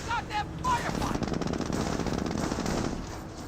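A Jeep's .30 cal machine gun rattles in rapid, steady bursts through the Company of Heroes battlefield, a dense continuous chatter that fills nearly the whole stretch, with brief tonal game sounds at the start.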